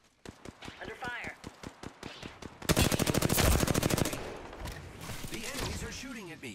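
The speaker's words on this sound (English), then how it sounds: "The enemies are shooting at me." Gunfire in Apex Legends, a firefight of rapid automatic bursts and single shots that swells into a dense, loud volley, then trails off, with in-game voices speaking over it.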